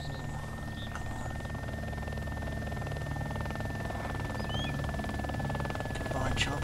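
A helicopter drones steadily in the DayZ Epoch video game, a continuous rotor and engine hum throughout, fairly loud and constant with a faint whine on top.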